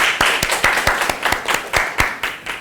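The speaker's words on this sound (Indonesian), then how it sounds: "Oke, kita beri tepuk tangan biar semangat." An audience at a communication audit presentation claps in quick rhythmic unison, loud and close, each beat a crisp burst repeating about four times a second.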